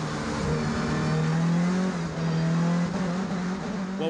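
A Sasol GTC race car at the Port Elizabeth circuit drives under a strained, droning engine note that holds a labored pitch as it struggles between third and fourth gear, steady and fairly close with no speech.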